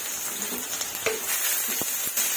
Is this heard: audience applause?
no